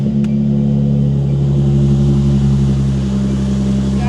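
A car engine idling close by with a deep, throaty exhaust rumble, a steady low drone that barely rises in pitch across the few seconds, with no voices.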